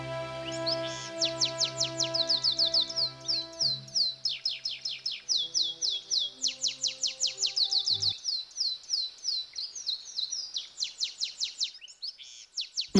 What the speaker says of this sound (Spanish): Las aves aprovechan la ocasión y se acercan a beber a sus orillas muchas especies que provienen de toda la zona, como canarios, herrerillos, pinzones azules o tórtolas.